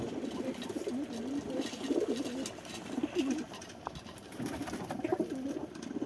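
A king pigeon coos repeatedly in soft, rolling phrases, fairly close, over a low background rumble.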